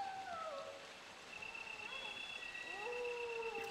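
Dogs in the Resident Evil video game, heard as whining, howl-like cries rising and falling over a steady background hum, with no clear growls or sharp barks.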